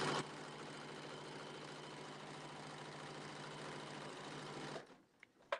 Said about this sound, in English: put my needle in the needle down position, rotate it, and then sew here.